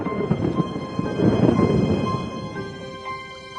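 Thunder from a lightning storm rolls as a deep, loud rumble that swells mid-way and slowly fades, with no talking.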